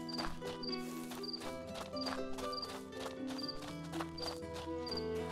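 A horse in the video game Two Worlds II clip-clops at a steady trot over a constant bed of game music, its hoofbeats falling in an even rhythm.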